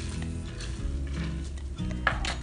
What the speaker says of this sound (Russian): Этим маслом горячим поливаю специи.